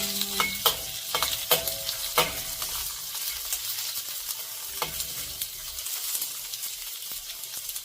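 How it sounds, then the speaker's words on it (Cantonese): Steady sizzling from a hot pan with sharp scraping strokes of a spatula as onions and ginger are stir-fried with cured pork, a few louder clacks early on. "爆香啲洋葱"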